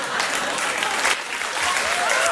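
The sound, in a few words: studio audience applause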